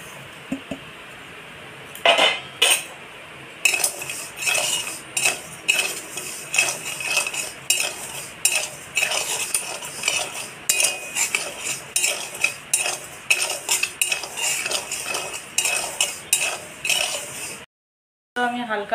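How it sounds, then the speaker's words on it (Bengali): Broken wheat dalia roasting lightly in mustard oil while a metal spoon stirs and scrapes the pan, making close, repeated clinks and scrapes in an irregular rhythm with no speech. "তো আমি এখন ডালিয়াটা ভেজে নেব হালকা।"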